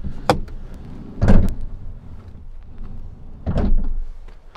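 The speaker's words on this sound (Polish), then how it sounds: "Zamykanie drzwi, no trzeba troszeczkę siły." A Volkswagen Caddy or Nissan Townstar van's heavy sliding door rumbles along its track and slams shut, with a few sharp thuds and clunks spread over several seconds.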